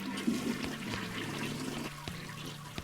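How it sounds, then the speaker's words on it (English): A toilet in the video game West of Loathing flushes with a short, loud rush of gurgling water that drains away steadily, with no one speaking over it. "I'm gonna flush all of those."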